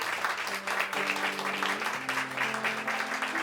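A church congregation applauds during a Spanish-language service, a short burst of clapping with sustained musical tones, likely an organ or keyboard, running beneath it.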